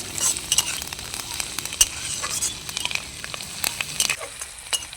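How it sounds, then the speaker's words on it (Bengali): Chopped green and ripe chillies and curry leaves frying in a pan for poha, with a bright continuous sizzle and frequent clicking stirs of a spatula throughout. "কাঁচা পাকা লঙ্কা কুচিয়ে নাও দিয়ে দিচ্ছি। কিছুটা পরিমাণে কারি পাতা। এখন নেড়ে চেড়ে একটু ভেজে নেব।"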